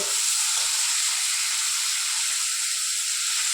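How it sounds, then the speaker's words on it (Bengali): A steady, loud sizzling hiss of chopped tomatoes frying in hot mustard oil continues without a break. "ভালো করে টমেটোটা ভেজে নেব"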